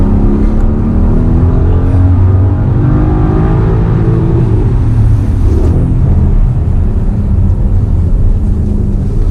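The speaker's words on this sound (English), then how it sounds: "This car, just listen to that V8" A loud Mercedes-Benz V8 engine roars steadily from inside the car on a racetrack, its pitch rising and falling as it revs and pulls through the gears.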